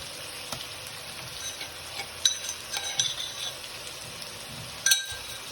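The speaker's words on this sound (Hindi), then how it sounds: "हमारी सब्जियां हाफ फ्राई हो चुकी हैं तो इस स्टेज पे हम डालेंगे इसमें लहसुन" Half-fried mixed vegetables sizzle steadily in a pan, with a few clinks and scrapes from a stirring utensil.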